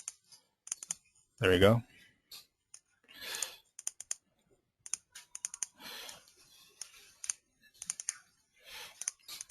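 Mouse clicks while selecting edges in midas GTS software, a scattering of quiet, close single and double clicks spread through the stretch, with a brief spoken phrase and faint breathing between them.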